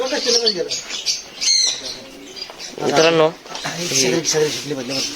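Pigeons cooing and chirping near a nest with a chick, several calls close by mixed with someone talking over them.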